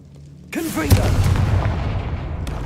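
A Confringo fire spell bursts with a sudden booming explosion in Hogwarts Legacy, preceded by a brief swooshing cast and followed by a rumbling, crackling tail that fades slowly.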